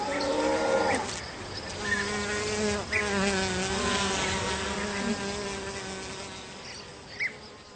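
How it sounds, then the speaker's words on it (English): Steady insect buzzing with a droning hum throughout, close and fairly loud, rising and falling slightly in pitch like a bee hovering nearby. "the rustling leaves and the humming of the bees"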